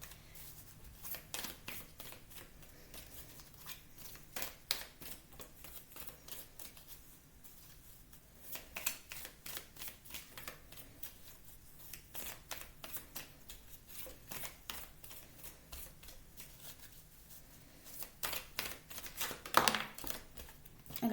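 Oracle cards for a reading, shuffled and drawn repeatedly, giving quick rhythmic riffling and flicking bursts that continue for about twenty seconds, fairly soft and close, with no talk.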